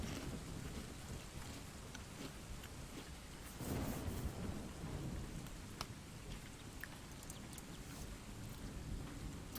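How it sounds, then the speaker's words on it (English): Steady heavy rain hisses throughout, with a deep thunder rumble swelling near the middle of a thunderstorm ambience that plays continuously in the background, with no voices. "You play with thunderstorm sounds in the background?"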